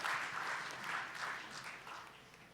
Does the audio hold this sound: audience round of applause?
yes